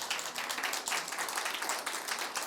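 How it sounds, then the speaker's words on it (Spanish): A congregation applauds during a Spanish-language church service, steady, moderately faint clapping spread across the room with no break. "si quieres darle un aplauso al Señor"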